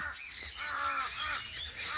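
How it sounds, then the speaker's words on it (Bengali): Crows caw repeatedly in harsh, overlapping calls, fairly close, with a steady outdoor background and no talking. "কাকের বাবা মা কান্নাকাটি করতেছে"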